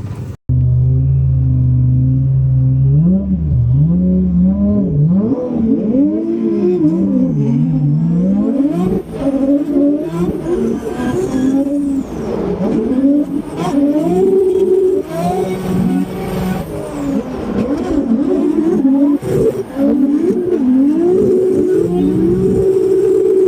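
Drift cars at a Formula Drift event in St. Louis rev hard on the opening lap, a loud close engine roar rising and falling through gear changes, with rumbling exhaust throughout.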